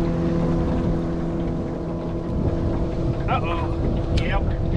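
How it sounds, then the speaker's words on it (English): A motorboat engine drones steadily throughout, a low continuous hum close by, with a few faint bird chirps near the end. "That's a buddy in his new boat."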